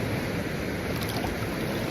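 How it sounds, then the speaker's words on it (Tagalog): The upper falls of the McCloud River give a dense, constant rushing roar, loud and close, with no voices over it. "Ito ang upper falls na tinatawag nila"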